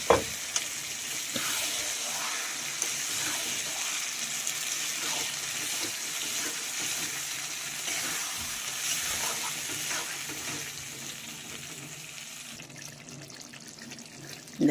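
Blended spinach paste hits a hot pan and sizzles steadily and loudly throughout, with faint stirring and scraping underneath.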